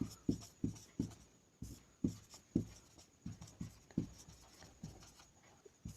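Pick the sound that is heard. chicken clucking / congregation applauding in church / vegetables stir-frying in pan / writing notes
writing notes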